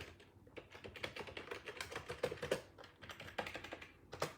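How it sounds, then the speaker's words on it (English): Fingers tap rapidly on a phone or computer keyboard in a steady, close stream of soft clicks with no pauses, and nobody speaks. "I'm going to try to type that in there"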